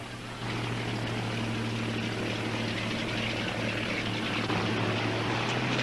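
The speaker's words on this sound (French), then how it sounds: "Regardez, un avion." A 1936 propeller reconnaissance airplane drones steadily overhead, a continuous loud engine hum with a strong low tone and broad airscrew roar holding level throughout, no voices.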